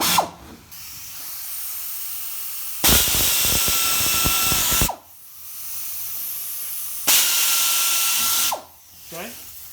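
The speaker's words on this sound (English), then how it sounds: "Take a drill. You're going to make one pilot hole." Power drill boring a pilot hole through a fiberglass deck lid, two loud sustained whining bursts of about two seconds each with a brief pause between, close by with no talk over them.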